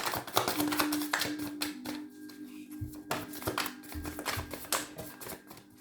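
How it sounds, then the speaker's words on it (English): Rapid, crisp riffling and tapping of tarot cards being shuffled up close, in repeated bursts with brief pauses between. "I'm going to shuffle and just see what comes out."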